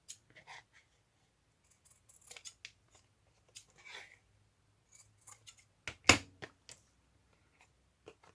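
Scissors snip through craft material while tags and toppers are being made, giving sharp, close, intermittent cuts spread across a quiet background, with one louder snip near the end.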